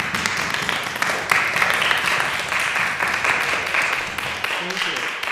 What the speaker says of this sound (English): Well, yes, let's applaud.